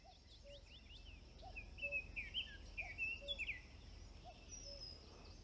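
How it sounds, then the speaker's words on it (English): An owl calls at night outdoors, giving short, faint hoots repeated every second or so, mixed with brighter birdsong and a steady insect hum in the background. "You can hear the owl."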